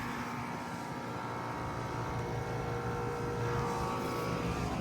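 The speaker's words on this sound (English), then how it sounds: "That would make sense with two Trane XR14 heat pumps running." Two Trane XR14 heat pumps, 1.5-ton units, run together outdoors with a steady, loud, unbroken fan and compressor drone that holds constant throughout.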